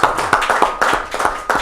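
Audience applause at a Rajasthan Parishad event honoring Sri Ashok Doshi, a burst of close, brisk hand clapping from a crowd, steady and fairly loud throughout.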